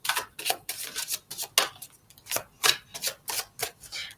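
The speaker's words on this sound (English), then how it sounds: "let's just pop them back in and shuffle them in there so they separate" Tarot cards being shuffled back into the deck, a quick run of crisp riffling bursts, about a dozen short rustling strokes in an uneven rhythm, close and fairly soft, with no talking.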